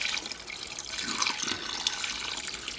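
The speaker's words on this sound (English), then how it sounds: "I'm just going to use actual hot water from the kettle." Warm water pours steadily from a kettle into a small washing machine tub, a continuous splashing gush with a brief swell in the middle, close by and with nobody talking.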